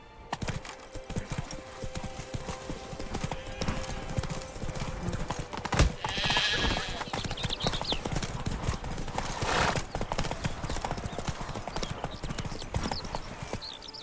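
Horse hooves clip-clop in a fast, steady gallop in The Witcher 3, with a brief whinny and faint spoken dialogue over the rhythmic beat.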